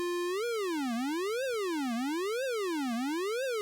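A buzzy square-wave tone from a u-he Diva software synth sweeping its pitch up and down in a steady, repeating zigzag, about one cycle per second, played alone.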